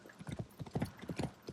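A horse's hooves clip-clop in a quick steady rhythm at close range in the video game Assassin's Creed Shadows, fairly quiet and heard on their own.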